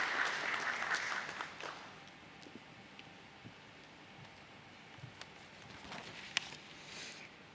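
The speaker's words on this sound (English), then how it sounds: "Please welcome with a huge round of applause, Sweetie Jain" Round of applause for the company MD at a stock listing ceremony, a dense patter of clapping that is loudest at the start, tapers off within about two seconds, and leaves a faint room murmur.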